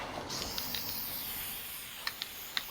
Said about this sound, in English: I don't think you really need to see me spray zinc oxide primer